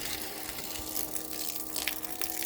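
Water pumped by a small AliExpress pump runs through a long 300-metre hose in a steady, even gush and splash, close by and alone, with no talking.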